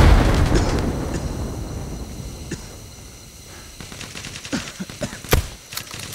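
Frag grenade blasts and bursts of gunfire in the shooter game Hired Ops, a heavy rumbling boom fading out, then scattered sharp shots and cracks picking up near the end.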